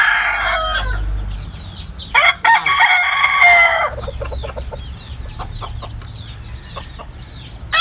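Labuyo jungle fowl rooster crowing nearby, a loud drawn-out crow followed by another crow and scattered clucks and chirps from other birds in the background.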